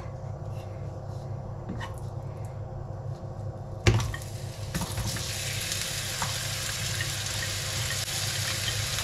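Onion drops into a pan and starts frying, a soft background hiss that jumps into a louder, fuller sizzle after a sudden clatter, then settles into a steady close frying sound.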